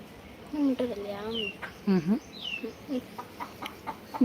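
A native country hen clucks and calls in short bursts nearby, with a person talking over the sounds.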